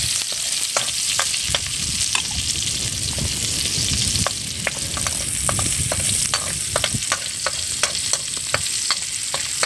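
Seasoning fries in a pan with a continuous sizzling hiss, punctuated by frequent sharp scraping clicks from stirring.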